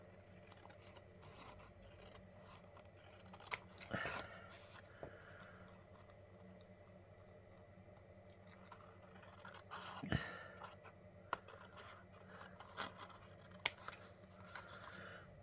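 Quiet snips of scissors trimming paper edges for papercraft, a few sharp crisp cuts scattered among soft rustling and handling sounds, close by with no talking.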